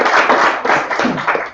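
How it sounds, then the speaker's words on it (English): Audience applause closing a presentation, a dense burst of many hands clapping that swells and fades over a short stretch, fairly close and loud. "Round of applause"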